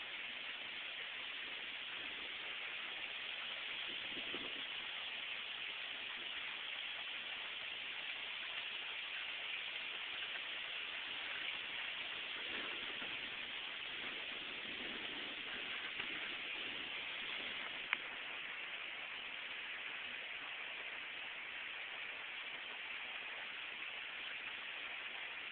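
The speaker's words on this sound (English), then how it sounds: "the rain coming down on the ground" Heavy rain pouring onto the ground during a big thunderstorm in Bristol, Connecticut, a steady dense hiss of falling water, even and unbroken throughout with no voices.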